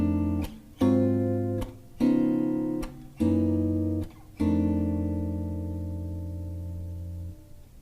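Jazz blues turnaround chords with tritone substitutions and 13th and 9th extensions: five sustained harmonic chords struck in sequence, each held about a second, the last ringing out and slowly fading.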